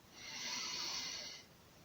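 A single long, airy inhale during a gentle standing exercise, close and quiet, rising and fading over a couple of seconds with no talking over it.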